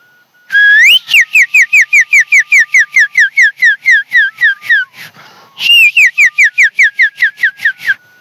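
A man whistling in imitation of a doorbell chime: loud, close, rapid series of sharp falling whistled notes in two bursts with a short pause between, no other sounds.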